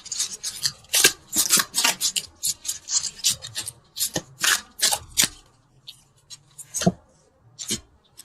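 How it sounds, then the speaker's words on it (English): Tarot cards being shuffled and pulled for a love reading: a close, busy stream of papery riffling and rubbing scrapes, dense at first, then thinning out into a few sharper flicks. "let's pull a couple universal love cards"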